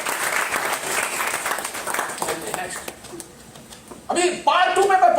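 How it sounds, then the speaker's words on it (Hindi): A seminar audience claps in a loud, continuous patter that fades after a few seconds. A voice then starts speaking over the last of the applause. "ताली बजाइए अपने लिए"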